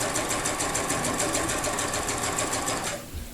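A sewing machine runs steadily while quilting stippled curves along a piano key border, a dense continuous mechanical whir that stops abruptly near the end.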